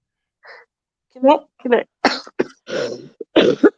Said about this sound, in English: Why you coughing, man?